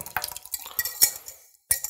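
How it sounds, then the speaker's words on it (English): A whisk stirs slurry into boiling stock in a pot, giving quick, close scraping and clinking strokes in an uneven rhythm, with a short pause near the end before the strokes resume. "Now we're going to slowly add this slurry to the boiling stock, whisking constantly."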